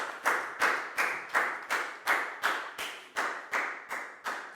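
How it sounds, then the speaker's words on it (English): Children in a primary school English lesson clap together in a steady rhythm, about ten evenly spaced sharp claps in unison, fairly quiet and with no talk over them. "High five and a big round of applause for Bang Bun, please, guys."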